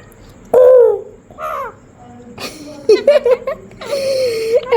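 A pet parrot imitates a crow, giving a few short, harsh caw-like calls up close, spaced unevenly across a few seconds.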